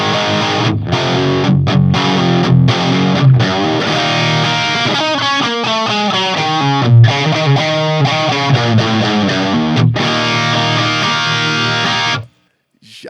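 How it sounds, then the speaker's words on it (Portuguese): Electric guitar running through a Tone Ink Gambit booster into a Marshall JCM amp, with a thick overdriven tone: strummed chords and then a run of single notes, loud and steady, stopping abruptly at the end. "Já adicionou mais uma camada de ganho de overdrive, de distorção"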